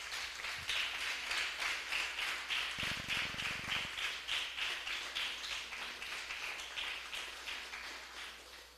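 A church congregation claps rhythmically in praise, a steady, fairly faint pulse of hand claps that continues evenly throughout.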